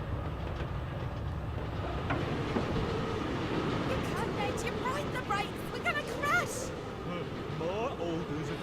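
Moving train rumbling steadily in the Forgotton Anne video game, a continuous low rolling clatter with faint squeals, with voices talking over it.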